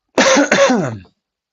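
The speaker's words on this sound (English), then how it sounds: "Excuse me, I have to cough." Two quick harsh coughs from a man, close and loud, the second following right after the first and trailing off into silence.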